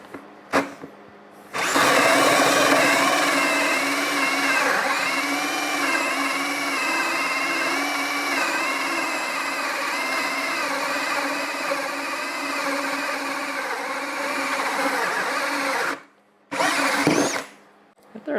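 Ryobi ONE+ HP 18V brushless compact drill on a 3 amp-hour HP battery, cutting with a 2-inch hole saw: a loud, sustained grinding whine with a wavering pitch for around fourteen seconds, then short stops and a brief restart.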